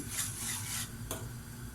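A utensil stirs milky mushroom soup in a pot, giving soft scraping and rubbing against the pot in a continuous motion, with one brief sharper scrape.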